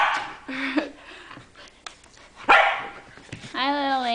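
A small dog yips and whimpers in short, high bursts, mixed with excited human voices talking over it nearby.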